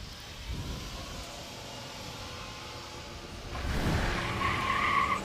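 Drag race cars at Roadkill Nights roar past from a distance, a low engine rumble that swells sharply near the end into a loud, rising high-pitched whine, with no talk.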